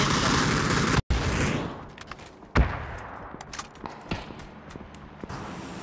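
Gunshots in a shooter video game, a few sharp reports spaced irregularly with quieter clicks and movement sounds between them, no talking.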